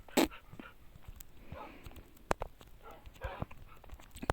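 Dogs in a video game give a sharp bark near the start, followed by soft whimpers, scuffles and light clicks at low level.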